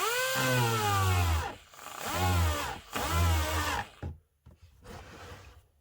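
Power saw with a broken handle cutting off excess material, its motor whining up and bogging down in three long passes before a few shorter bursts and quiet gaps, close and loud.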